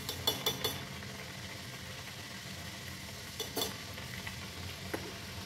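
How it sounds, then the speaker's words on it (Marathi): Bhajani vada frying in hot oil in a pan, a soft, quiet sizzle with a few light clinks and taps of a utensil near the start and again midway. "यात आता हा वडा घालूया. थोडं असं त्याच्यावर तेल घालायचं"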